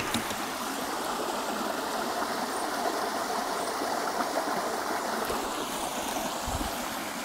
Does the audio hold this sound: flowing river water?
yes